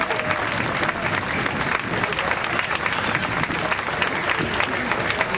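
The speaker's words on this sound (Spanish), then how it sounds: "también un fuerte aplauso, por favor, a los héroes" A crowd at a Mexican bicentennial and centennial ceremony in Colima gives strong, sustained applause for the heroes of independence, a thick wash of clapping that holds steady the whole time.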